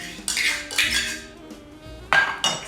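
Applesauce gets mixed into banana bread batter in a bowl, with a few sharp, close clinks and scrapes of a utensil against the bowl in quick irregular bursts, heard alone.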